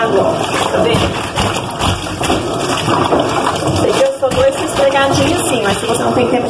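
Water is poured and splashed into a laundry tub holding clothes and bar soap, with sloshing, thuds and handling noises, while someone talks over it throughout.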